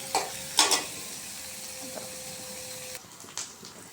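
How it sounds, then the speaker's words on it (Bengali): Chopped green chillies, onion and garlic sizzle in hot oil in a pan, a steady close hiss broken by a few stirring scrapes and clinks. "তেলের ভিতরে কাঁচামরিচ, পেঁয়াজ, রসুন কুচি। 2 মিনিট তেলের ভিতরে ভাজি করে নেব"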